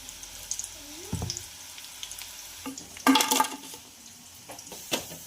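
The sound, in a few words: chilli bhaji fritters deep-frying in oil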